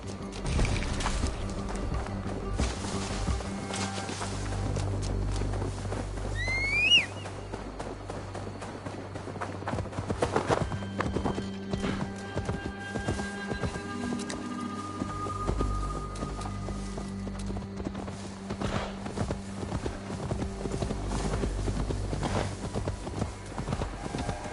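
Horse hooves clip-clopping steadily in the video game Assassin's Creed Valhalla, a continuous rhythmic trot over game music and ambience, with a few louder knocks along the way.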